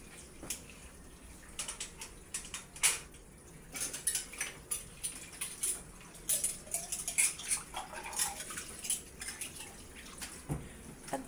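Dishes being washed by hand, plates and cutlery clattering and clinking against each other in irregular bursts close by, with faint running water beneath.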